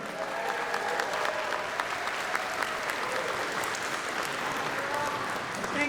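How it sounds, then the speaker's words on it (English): Steady, dense applause from a crowd at the Megaplex 2025 opening ceremonies, clapping continuously for the full stretch with a broad, even roar. "Everybody, big round of applause."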